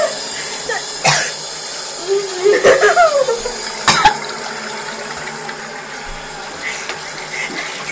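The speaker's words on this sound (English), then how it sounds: "I just threw up." Coughing and gagging from someone who has just eaten paprika sauce, a sharp cough burst followed by strained retching sounds and another cough, loud and close, with voices nearby.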